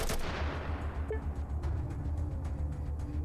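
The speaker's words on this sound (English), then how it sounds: "Can you guys stop throwing grenades?" Grenade and gunfire blasts from combat in the video game Atom RPG, a loud burst opening the moment followed by a dense, continuous rumble of repeated explosive impacts with no talking.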